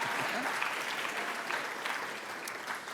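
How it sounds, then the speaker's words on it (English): Steady audience applause fills an evening award ceremony, a dense wash of many hands clapping at even loudness throughout, with no voices over it. "go ahead, clap for me"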